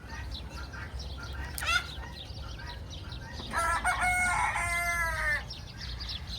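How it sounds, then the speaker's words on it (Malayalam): A rooster crows loudly in a long, drawn-out call amid background clucking and rustling from a flock of chickens on a farm on a sunny evening in the UAE. "നിറയെ കോഴികൾ."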